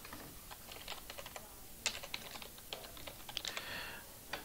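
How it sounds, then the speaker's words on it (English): Typing on a computer keyboard in a quiet room, with a quick, irregular run of soft key clicks and a few sharper taps, close and faint. "press Windows and X again, open control panel and type in internet options"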